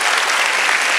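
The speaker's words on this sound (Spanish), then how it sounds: "¡Aplauso para nuestra amiga!" Live audience at a comedy show in Valdivia bursting into steady, dense applause, loud and close, filling the whole moment with continuous clapping and no voices on top.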